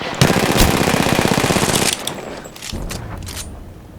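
Automatic weapon fire in the battle royale game Apex Legends rattles in a loud, rapid, close burst for about two seconds, followed by a few scattered shots and softer clatter.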